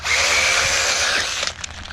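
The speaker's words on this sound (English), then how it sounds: "EDF trying to turn on." An electric ducted fan on an RC jet car whines loudly as it spins up, a steady high-pitched rush that holds for over a second before cutting off into scattered faint clicks and rattles.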